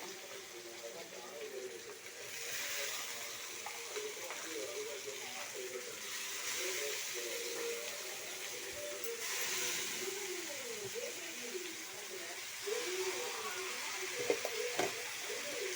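Chopped tomatoes and onions frying in oil, a low steady sizzle running beneath a person speaking throughout, with occasional stirring clicks.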